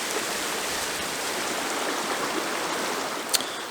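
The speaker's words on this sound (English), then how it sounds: "Another pretty little waterfall dumping into the same hole as well." A small woodland waterfall pours into a trout stream pool, giving a steady, full broadband rush of falling water that holds even and close throughout with no voices.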